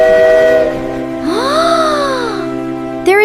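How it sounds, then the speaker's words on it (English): An animated train sounds a long, loud whistle outside a house, its rising and falling tone holding for about a second over steady music-like tones, with a brief sharp burst at the end. "There is a train outside our house."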